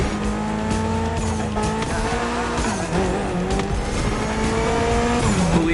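A Mitsubishi inline 4-cylinder car with 280 horsepower from the racing game The Crew Motorfest revs loud and steady throughout, its engine pitch rising and dipping while tires squeal continuously beneath it.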